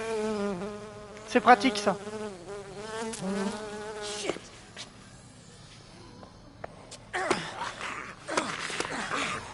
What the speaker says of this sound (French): Les guêpes.